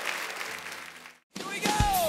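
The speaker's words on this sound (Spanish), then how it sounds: "Dale ese aplauso bien grande." A church congregation applauds in a steady wash of clapping that fades out abruptly, followed by a short rising whoosh-like tone after a brief gap.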